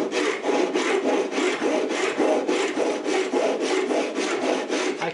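A cheap, freshly sharpened tenon saw cuts into wood with a quick, even run of rasping push-and-pull strokes, close and loud, about three strokes a second, with no talk.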